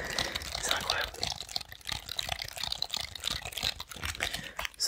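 Soft, rapid tapping on a classic computer keyboard, close and quiet with an irregular clatter of keystrokes throughout, no voice.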